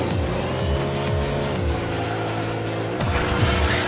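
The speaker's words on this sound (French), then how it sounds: "Ah, j'ai réussi mon dérapage aussi." A toy car drifts in Hot Wheels Unleashed 2 Turbocharged, its engine revving loudly and whining through gear shifts, with tire squeal over a steady, close racing roar and no voices.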